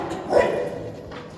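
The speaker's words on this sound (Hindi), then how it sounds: "कुत्ता भौंक रहा है।" A single dog bark rings out briefly in the distance, followed by a lingering noisy room tone with no talk.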